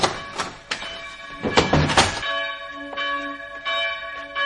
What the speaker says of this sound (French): Quelqu'un est entré dans le temple et sonne les cloches